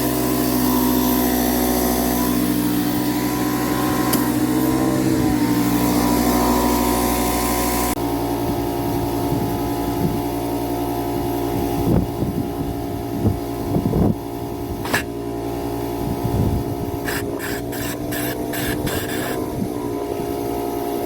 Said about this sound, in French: On y va pour la soufflette.